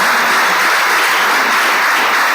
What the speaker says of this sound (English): Please a round of applause for Mr. Nyek Keme Fimba.